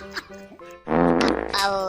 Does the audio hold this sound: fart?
yes